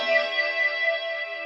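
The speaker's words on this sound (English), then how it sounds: "I can add some delay to that" A PRS Hollowbody II electric guitar rings out with a sustained chord washed in delay, its repeats blending into a dense, shimmering tone that holds steady and slowly fades, with no talking.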